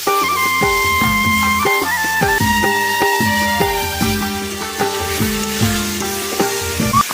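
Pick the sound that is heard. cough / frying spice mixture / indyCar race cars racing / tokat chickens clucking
frying spice mixture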